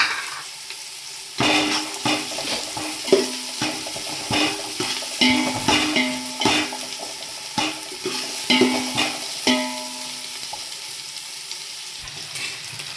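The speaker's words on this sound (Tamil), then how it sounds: "அப்படியே உடச்சி வச்சுருக்கிற பூண்டை சேர்த்துக்கலாம்." Crushed garlic fries in a pan for Tamil nonbu kanji, a steady soft sizzle broken by repeated scraping stirs and light clinks of a spoon against the pan, close and without speech.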